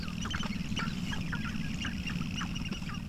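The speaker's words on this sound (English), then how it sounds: "Sharp-tailed grouse are a small ground-nesting native species to Idaho that are just slightly smaller than a chicken" Sharp-tailed grouse call in spring on open Idaho ground, a chorus of repeated clucking and cooing notes from several birds at moderate distance over a steady low background rumble.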